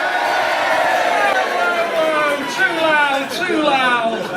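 An audience at a comedy club in The Wardrobe, Leeds, cheers and shouts as a crowd, with many voices rising together in a loud, sustained roar.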